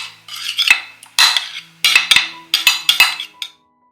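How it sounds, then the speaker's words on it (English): A spoon or spatula scrapes and clinks against a baking dish while sauce is spread across its bottom, in five or six close, bright strokes of scraping with short pauses between them. "And then I just spread it around so that it covers the bottom"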